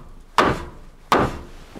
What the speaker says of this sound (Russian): И будем забивать их сюда сейчас.